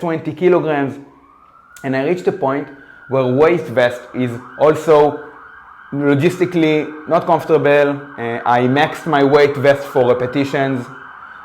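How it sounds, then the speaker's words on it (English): A siren wails at a steady pitch in the background while someone talks over it. "excuse the sirens"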